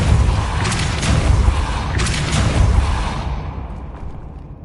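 A Depulso force spell cast in Hogwarts Legacy lands as a loud, broad whooshing boom with two swelling bursts that fade away. No one talks over it.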